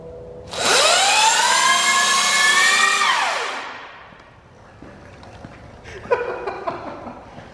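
A modified electric bike runs on a dyno, its motor whining up to a loud, steady high-pitched drone for a few seconds before winding down, then scattered rattling and clatter follow.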